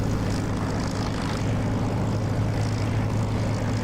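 In the DCS flight simulator, a plane's engine roars steadily at full power for takeoff, a dense, even drone with a low hum and no voices.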